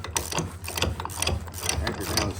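A hand ratchet tightens the anchor of a camper's tow hitch, giving rapid repeated clicking strokes close up, loud and rhythmic, with no talking.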